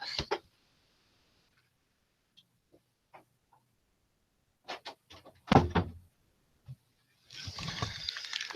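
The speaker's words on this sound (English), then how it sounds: "I gotta close the door." A door is pulled shut: a few close wooden knocks and a firm thud, then a short clatter. Quiet gaps surround the sounds, and a burst of broadband noise follows.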